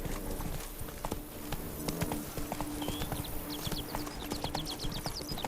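Horse hooves gallop in The Witcher 3 video game, rapid rhythmic clip-clop beats at moderate level over a soft ambient bed, with faint bird chirps later.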